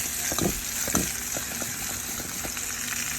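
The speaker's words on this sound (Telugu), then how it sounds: "గిన్నెను ఈ విధంగా కలుపుతూ ఉడికించుకోవాలి" Sweet potatoes cooking in a pot are stirred, giving soft, irregular scraping and sloshing strokes over a continuous faint sizzle and bubbling, heard close and fairly quiet.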